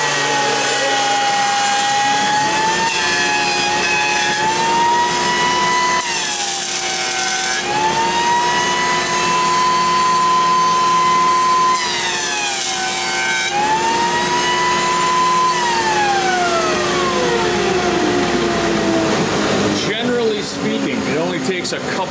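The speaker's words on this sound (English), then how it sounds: "So let's joint the edge here." Jointer with an indexable carbide cutterhead and dust collection jointing the edge of a wooden guitar blank, a loud continuous whine that dips and rises across several passes over about twenty seconds, with talking at times.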